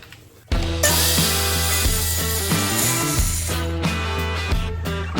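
A power saw cuts through a wooden shelf header during a van build, starting abruptly after a quiet moment and running loud and steady for several seconds with a sustained whine and small dips in pitch.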